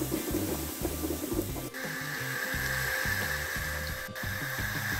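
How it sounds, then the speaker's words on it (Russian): Pirozhki filled with oyster mushrooms, onion and stewed cabbage sizzle steadily in hot oil in a frying pan, a continuous close crackle alongside low rhythmic background tones. "Первые уже жарятся."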